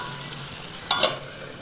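Fish frying in a hot pan: a steady soft sizzle, with a brief louder burst of crackling as the pieces are stirred or turned.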